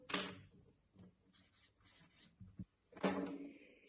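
Marker or chalk writing examples on a classroom board, producing scratchy strokes and taps in short irregular bursts, quiet and close, with a louder stroke near the end.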